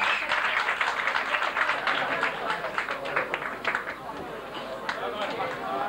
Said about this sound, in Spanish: Enhorabuena, José, un aplauso.